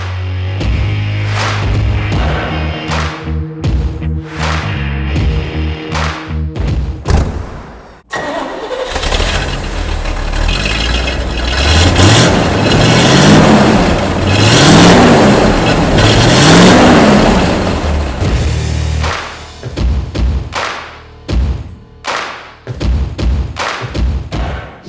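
A C3 Corvette V8 engine starts and revs hard, then drives with a loud, sustained roar and repeated throttle blips, close and dominant throughout.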